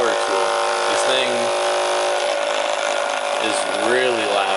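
Hypervolt massage gun running at its highest speed, a loud, harsh electric motor whine with a steady buzzing pitch, rising and dipping in tone as the head presses and lifts, close and alone.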